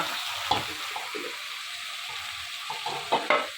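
Meat is sautéed in a pan, giving a continuous sizzle with scattered stirring scrapes and soft clacks of a utensil, heard close and at moderate volume.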